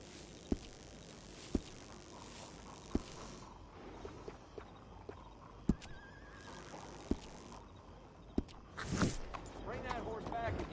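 A horse is led nearby with sharp, regularly spaced hoof clops on hard ground, ending in a loud snorting whinny near the end; background ambience runs throughout with no clear speech.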